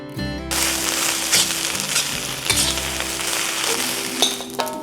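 Spam fried rice stirred in a hot pan, a steady loud sizzle with scraping and clinking of the utensil against the metal throughout, no voices.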